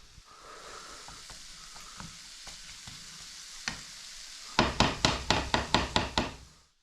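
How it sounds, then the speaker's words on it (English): Onions and peppers sizzle steadily in a hot pan while a utensil knocks now and then, ending in a quick run of sharp, loud taps against the pan. "Once the onions were cooked, I added the peppers and let them cook for a few minutes."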